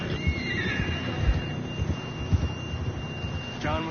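A horse in Red Dead Redemption 2 gives a fairly clear whinny near the start, with a shorter whinny right at the end, over low hoof and movement noise outdoors.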